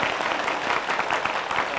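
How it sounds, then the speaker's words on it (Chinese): A university lecture audience claps warmly, a dense, even burst of applause from many hands sustained throughout at a steady loud level. "那我们再次热烈掌声"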